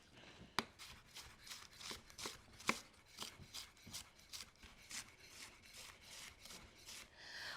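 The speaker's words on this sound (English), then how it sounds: "Let's thinly slice our cabbage." A knife thinly slicing red cabbage on a cutting board, with a steady run of crisp, evenly spaced chopping strokes, close and fairly quiet, with no talk.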